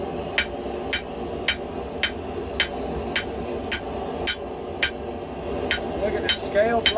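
Loud, evenly spaced hammer blows ringing on an anvil while forging cable Damascus steel, about a dozen sharp strikes with a low background hum and some talking near the end.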